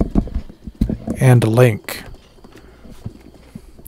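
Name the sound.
horse hooves clip-clopping during a video game horse ride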